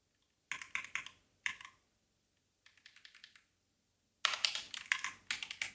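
Bursts of clicky keystrokes on a computer keyboard come in short separate runs with pauses between, close and fairly quiet, with no voices.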